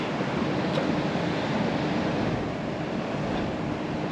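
Surf rolls onto a raised beach on the Venezuelan coast, lifted by an earthquake, as a steady broadband wash of waves mixed with wind buffeting the microphone, loud and continuous without speech.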